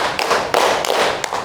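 A group clapping hands in a concentration exercise, several sharp claps in an uneven rhythm over a short stretch, close and fairly loud.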